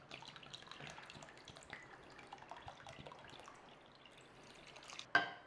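Water is poured into a pot of sugar and ginger for syrup, making a soft, continuous trickle and splash that runs quietly throughout, ending in a brief louder clink or splash.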